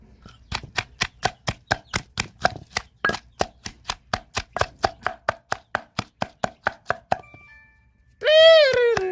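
Spice paste pounded in a mortar for a Thai-style home chicken soup, about two dozen sharp, evenly spaced thuds in a steady rhythm, close and clear, ending with a brief pause and a short burst of a voice.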